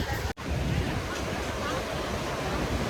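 Sea waves and wind on the shore at Fort Kochi, with the sea running rough. A broad, steady roar of surf and wind buffets the microphone. A brief dropout comes near the start, and faint crowd murmur sits underneath.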